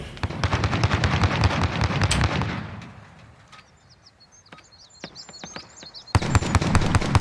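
An artillery barrage in the Call of Duty Warzone video game: loud rapid blasts and cracks, a lull with distant scattered pops, then a heavy renewed volley.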